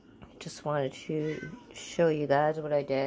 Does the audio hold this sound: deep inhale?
no